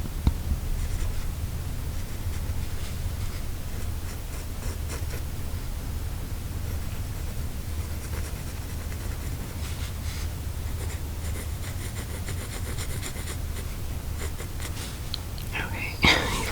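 Graphite pencil scratching across paper while sketching a Beetlejuice character, a steady close-up scraping texture that runs continuously under soft whispering throughout.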